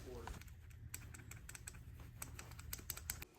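A flimsy pants button with loose play, clicking in quick irregular taps at close range, faint.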